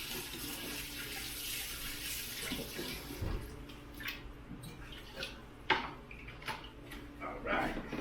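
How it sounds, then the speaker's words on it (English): Tap water runs steadily into a sink while hands are washed during homemade Mexican-style beer brewing, with splashes and small knocks breaking up the flow; no one speaks. "Wash my hands a little bit."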